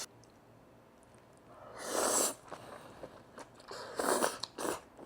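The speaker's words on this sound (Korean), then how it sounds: "지금 콩나물 아삭아삭 씹히는 거 소리 들리시죠?" Crunchy boiled soybean sprouts chewed close to the mic, two loud crisp bursts of crunching separated by quieter bites against a faint background hum.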